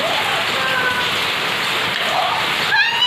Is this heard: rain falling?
yes